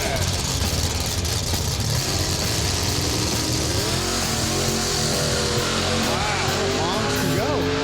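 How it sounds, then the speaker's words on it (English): A drag racing car makes a pass down the strip, its engine a loud, continuous roar that rises in pitch toward the end as it accelerates, heard from a distance along with crowd and announcer noise. "Let's watch Wanda make this pass."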